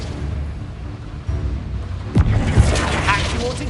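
The Confringo blasting spell bursts in a Hogwarts Legacy battle, a deep boom landing midway and rumbling on amid other combat noise, with a voice audible alongside.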